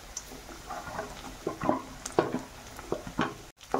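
Carrots and peas are sautéed in a pan for upma, stirred with a spoon in soft scrapes and wet squishing taps over a faint sizzle, close and fairly quiet, with no talking.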